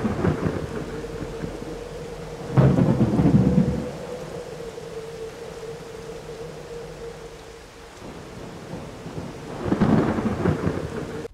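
Thunderstorm in the Toca Life mobile game: two loud, rumbling thunder claps roughly seven seconds apart, with steady rain and a sustained low drone filling the gaps between them.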